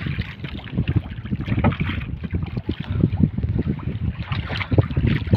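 Strong wind buffets the microphone aboard a small fishing boat at sea, a steady, gusty roar with irregular thumps and rushing noise throughout.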